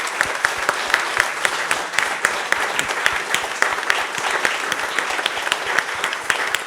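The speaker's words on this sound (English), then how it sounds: "So let's give them a round of applause." An audience applauds the volunteers at an Ontario Place for All evening presentation, a crowd clapping steadily with some sharp individual claps standing out over the continuous patter.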